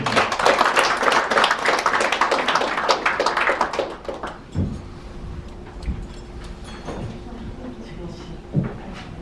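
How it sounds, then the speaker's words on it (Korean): Audience applause at a Korean journalists' convention ceremony: dense, loud clapping from a crowd that fades after about four seconds, followed by quieter scattered sounds and a faint hum. "뜨거운 박수 부탁드리겠습니다"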